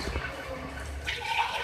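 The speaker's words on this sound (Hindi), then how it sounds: "अब मैं इसमें पानी ऐड करूँगी 2 गिलास।" Water from two glasses splashes into a pot of browned beef aloo korma, a close, steady gurgling pour lasting under two seconds with no talking.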